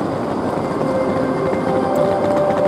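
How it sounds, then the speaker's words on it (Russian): Red Aeroexpress airport train at a station, a steady broadband rumble of rolling rail cars with a faint high whine, continuous and fairly close, with no talk. "вот и приехал наш Аэроэкспресс"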